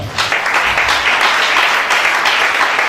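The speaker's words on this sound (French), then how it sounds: "Acclamez Shaddai" Church congregation clapping loudly and steadily in a dense, sustained burst of applause, close and continuous throughout with no talk over it.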